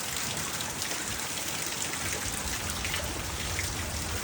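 Heavy storm rain pours down steadily as a dense, even hiss of drops on surfaces, loud and unbroken from start to finish with no talking over it.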